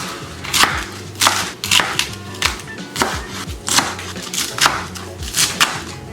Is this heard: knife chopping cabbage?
yes